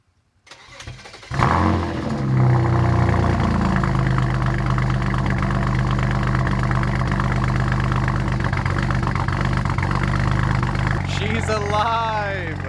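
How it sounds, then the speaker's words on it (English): A BMW 335i with the N54 engine, fitted with used injectors, cranks and catches after a brief silence, then settles into a steady, close idle, with a voice briefly heard near the end. "now hopefully we're going to start the car up and have all 6 cylinders"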